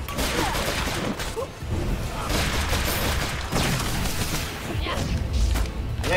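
Dense, continuous battle noise from mines and grenades going off in the Full Metal Furies video game, with booms and crashes packed closely together at high loudness throughout.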